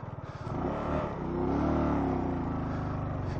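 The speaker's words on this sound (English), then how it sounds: "You can hear the noise of the engine. Definitely lack of power." A motorcycle engine labours uphill on the road toward Babusar Pass, lacking power, with a continuous strained drone that swells slightly in the middle and stays loud throughout, no voices present.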